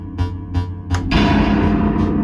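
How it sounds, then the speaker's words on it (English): Plucked guitar notes through a spring reverb ring with a splashy, drippy tail, then a strummed chord blooms into a dense, wobbling wash of echo. "It's an authentic spring reverb."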